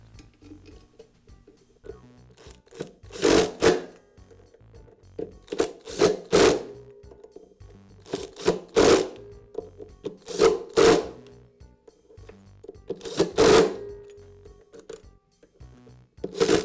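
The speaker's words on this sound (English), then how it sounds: "I can install the remaining screws." Screws being fitted and driven into the blade of a DeWALT planer make sharp, bright metallic clicks and ratcheting rasps in irregular bursts, close and fairly loud, with quiet pauses between, no talking.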